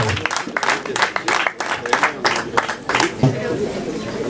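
Guests at a Rwandan wedding give-away ceremony clap in quick, dense bursts close by, with crowd voices mixed in throughout the short stretch.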